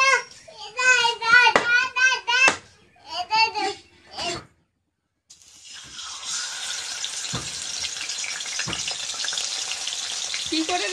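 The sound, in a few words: fish frying in a pan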